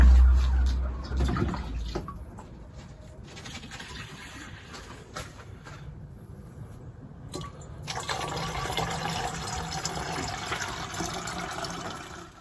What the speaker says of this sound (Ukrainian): зараз залью води